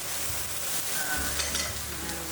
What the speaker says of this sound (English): And then use a fork to mix well.